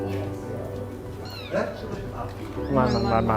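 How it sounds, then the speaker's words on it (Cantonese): A recording of cat meows plays from a device during a rescue search for a kitten trapped in a car's engine bay in Hong Kong. Several drawn-out meows sound close, with people talking over them. "我播啲貓聲引下佢叫先。"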